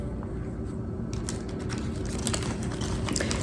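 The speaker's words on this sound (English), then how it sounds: "Then we're going to take them, put them in our plastic bag." A plastic bag being handled as beans wrapped in a fold of material go into it, giving close, crisp crinkling and rustling bursts that grow busier after the first second.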